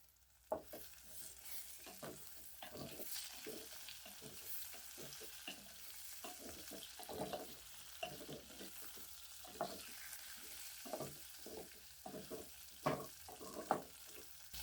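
Tomatoes and coconut sautéing in a pan, a soft ongoing sizzle under frequent spatula scrapes and taps that come in irregular bursts, fairly quiet and close.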